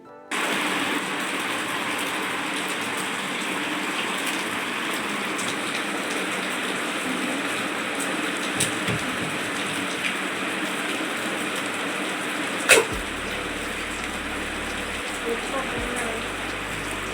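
Rain falls steadily as a dense, even hiss for the whole stretch, with a faint low rumble near the end.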